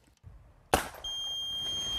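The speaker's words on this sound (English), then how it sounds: "This beeping sound tells me I was just attacked by an enemy combatant." A MILES laser combat training device worn on a soldier's uniform, sounding a sharp bang followed by a continuous high-pitched electronic beep that keeps going after the hit.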